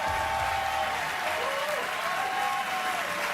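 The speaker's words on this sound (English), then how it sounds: "earning warm applause from the" Warm audience applause at an awards show, a dense continuous wash of clapping with some crowd murmur and a faint voice above it.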